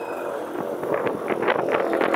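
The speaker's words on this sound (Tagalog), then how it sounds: "Malamig ang simoy ng hangin." Breezy wind rushes across the microphone in gusts, steady and fairly loud, with no talking.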